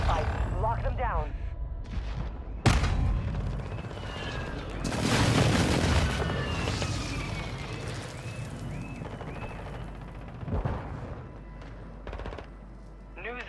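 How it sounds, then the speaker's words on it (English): Airstrike explosions and gunfire erupt in Call of Duty: Modern Warfare 2, with sharp blasts, a long rolling boom in the middle and scattered bursts of shots, while game voices talk over the combat. "Hostiles called in an airstrike."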